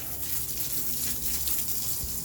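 Tap water gushes steadily over a speargun being rinsed of seawater after a dive, a continuous hissing splash with no talking.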